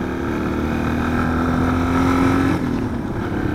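A motorcycle cruising at around 90 km/h gives a steady engine drone with a faint rising tone and wind buffeting, sustained and close throughout.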